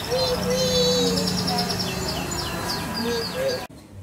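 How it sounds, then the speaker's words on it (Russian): Birds chirp and trill continuously in overlapping bright calls, fairly close, until the sound cuts off abruptly near the end. "Ребят, смотрите, птички распелись."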